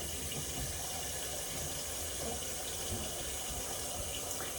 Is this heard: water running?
yes